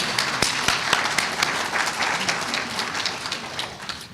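A crowd at an awards ceremony applauds with steady, dense clapping that stays loud and even throughout, with a few sharper individual claps standing out near the start.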